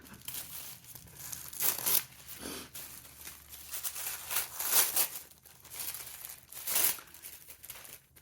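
Tissue paper wrapping an advent gift is torn and crinkled in several close, bursty rustling passes, with quieter pauses between the louder rips and no talking.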